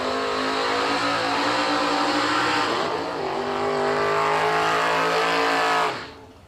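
Drag race cars, a Dodge Dakota and a Buick Apollo, roar at full throttle in a continuous loud engine drone that rises in pitch and then cuts off abruptly near the end.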